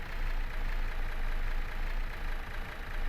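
An airplane engine from the Create mod in the video game Minecraft drones steadily, a loud continuous engine roar with no talking over it.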